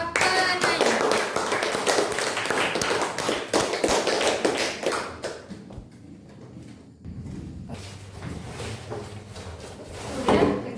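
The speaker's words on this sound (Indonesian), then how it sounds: "kita kasih tepuk tangan kepada penanya" Applause from a classroom audience for a student questioner during a lesson on prostration prayers, loud dense clapping for about five seconds, then fading into scattered claps and room noise.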